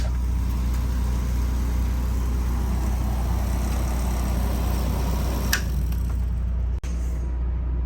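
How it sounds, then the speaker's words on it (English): Generator running aboard a used 2015 A.C.E. 30.2 motorhome, a steady low hum and drone that holds evenly throughout, with a brief click near the end. "Right now the generator's running"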